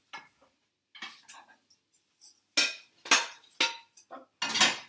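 A utensil clinks against a bowl while omelette ingredients are mixed, a few light taps at first and then a run of louder, sharper scraping clinks close by.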